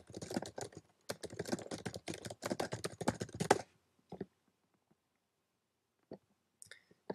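Rapid typing on a computer keyboard, a dense close run of key clicks for several seconds, then a few scattered isolated taps over near silence.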